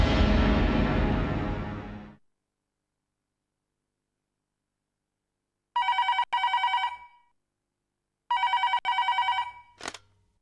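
A landline telephone rings in two long electronic bursts, each a rapid warbling double trill, clear and close after a stretch of silence that follows a short loud noise.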